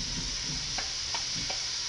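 Lengthwise-cut potatoes fry in oil over medium heat, making a constant bright sizzle with three light taps spaced evenly through it. No voices are heard.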